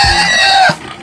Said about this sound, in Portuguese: O homem ali vai lavando o chiqueiro e de repente é carregado por um porco.